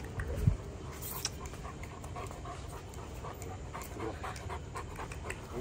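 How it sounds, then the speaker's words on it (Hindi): Bully Kutta dogs, four together outdoors in Pakistan, panting steadily and fairly faintly, with a small whimper and a few light background sounds throughout, no talking. "ये बुली कुत्ते, चार चार डॉग एक साथ"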